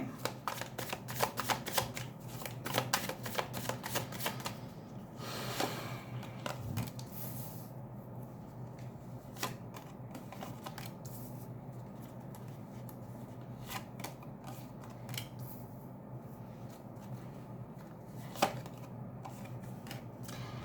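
A tarot deck is shuffled by hand in a quick, close flurry of riffling card sounds, then cards are slid and laid out in soft, scattered taps and rustles in a quiet room.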